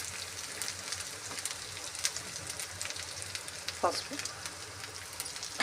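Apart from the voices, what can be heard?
ginger garlic frying in a pan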